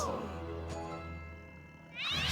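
A cat's drawn-out meow from an animated cartoon episode rises and falls, harmonic and close, followed by a louder second meow starting near the end.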